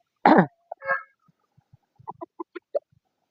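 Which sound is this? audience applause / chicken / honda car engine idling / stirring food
chicken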